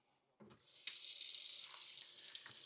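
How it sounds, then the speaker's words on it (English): Tap water runs steadily into a kitchen sink as beef is rinsed under it, a brief clatter at the start, then a continuous close hiss of flowing water with small splashy fluctuations. "Just rinse that off a little bit."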